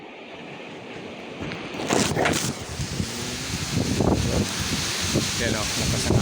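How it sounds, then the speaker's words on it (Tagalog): Strong wind gusting against the microphone outdoors, a broad roaring rush that swells from about two seconds onward, with a voice speaking briefly through it. "lakas ng hangin"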